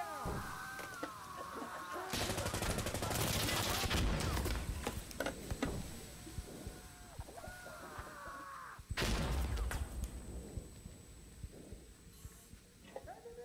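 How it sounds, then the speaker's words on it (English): Mortar rounds come down in Insurgency: Sandstorm during a night match as two heavy, crashing bursts of impact a few seconds apart, loud and broad, amid sharp game tones and clatter. "mortar's coming down"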